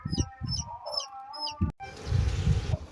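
A hen clucks near freshly hatched yellow chicks peeping, repeated high cheeps over low clucking, close by, followed by a burst of rustling noise.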